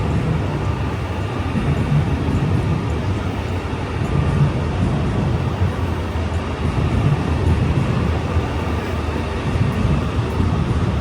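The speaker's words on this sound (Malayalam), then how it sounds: "ഈ വരുന്നതാണ് സുഹൃത്തുക്കളെ നമ്മുടെ ബുള്ളറ്റ് ട്രെയിൻ." A high-speed bullet train pulls into a station in China, a steady loud low rumble and rail roar that holds evenly throughout, with no voices over it.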